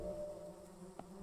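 Flies buzz in a continuous, droning hum in the video game Close to the Sun. The buzzing is faint and steady, with one brief closer flutter near the end.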